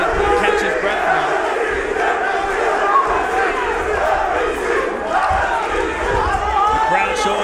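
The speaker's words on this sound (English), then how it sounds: "The crowd showing their approval here and their support for Elvis Gashi." A loud arena crowd at a GLORY 55 kickboxing bout roars and cheers in support of a fighter, a dense continuous wall of shouting voices lasting throughout with no clear pauses.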